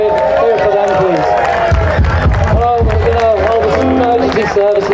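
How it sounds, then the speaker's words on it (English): An outdoor community event crowd applauds and cheers for volunteers, a loud, continuous mass of clapping and voices sustained throughout, with a tonal musical drone running beneath. "can we just have a big round of applause for all the volunteers who have spent so much time making today great?"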